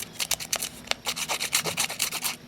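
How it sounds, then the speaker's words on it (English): A distressing tool scrapes along the edges of paper strips for a loop flower, a rapid series of short dry rasping strokes, close and distinct with no talking. "I just used my distressing tool and I ran it along the edges of all the strips"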